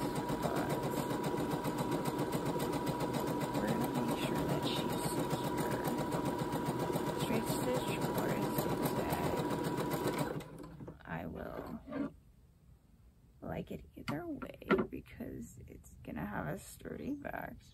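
A sewing machine stitches a straight stitch in one long, steady, loud mechanical hum for about ten seconds, then stops, followed by scattered handling noises and a person talking.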